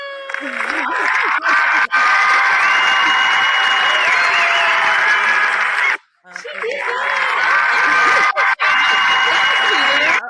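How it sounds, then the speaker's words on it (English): A loud crowd cheers and claps for Miss Pascha, with excited shouting and whooping voices riding over the applause, a short drop partway through, then the cheering surging again. "let's clap it up for Miss Pascha"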